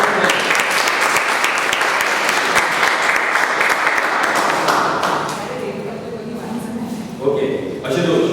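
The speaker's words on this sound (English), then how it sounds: "big round of applause for Jansi" A club audience at a Toastmasters education session gives a round of applause, loud close clapping for about five seconds that fades out, then a speaker's voice takes over.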